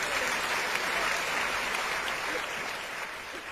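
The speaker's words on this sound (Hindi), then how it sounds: "एक बार जोरदार तालियों से आप स्वागत करिए" Audience applause welcoming a guest at a public gathering, a dense, sustained round of clapping that fades slightly toward the end, with no talk over it.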